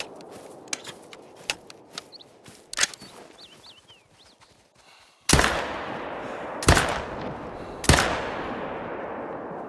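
Rifle shots fired at bighorn sheep in the hunting game theHunter: Call of the Wild, three loud sharp reports with echoing tails spaced a second or so apart, following quieter ambient ticks, rustles and faint bird chirps.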